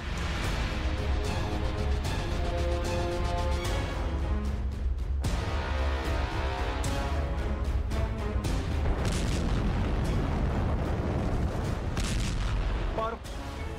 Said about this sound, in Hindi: ईरान के शहर इस्फहान में, जहां गोला बारूद की एक फैक्ट्री में जोरदार धमाका हुआ